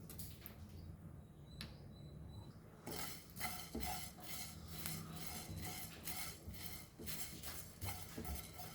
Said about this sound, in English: Now let roast us dhania, that is coriander